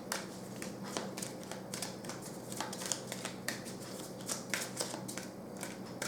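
Tarot cards are shuffled and drawn, giving a quick run of crisp riffling and flicking card sounds in irregular bursts, close and fairly quiet, with no talk.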